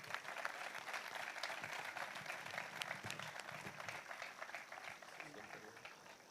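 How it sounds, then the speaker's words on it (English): An audience at a football academy player presentation evening claps for Ivan Parra, a steady wash of applause that holds through the clip and eases slightly at the end, with voices mixed in underneath. "a huge round of applause for Ivan Parra from everyone"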